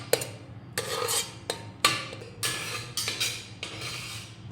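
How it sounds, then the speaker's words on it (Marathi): Ground masala paste sautéed in a pressure cooker for matar masala, with a spoon scraping and stirring against the metal pot in repeated close strokes, a steady low sizzle running underneath. "यामध्ये आपण तयार करून घेतलेलं वाटण घालूयात आणि हे व्यवस्थित परतून घेऊयात"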